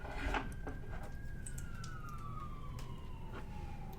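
A single siren tone sliding slowly downward, moderately loud over a low rumble, with faint clicks and knocks around it.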